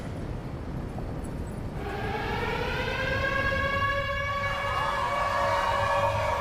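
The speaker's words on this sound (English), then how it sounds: "The sirens, the sounds of chaos, a chillingly familiar scent of fear began to creep back." Wailing sirens rising over a dense, chaotic roar, their several tones sweeping upward together and swelling louder after a low rumbling opening, with no voices.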